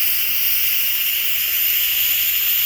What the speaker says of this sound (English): I'm going to turn this valve to release our pressure.